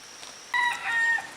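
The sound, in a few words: chickens clucking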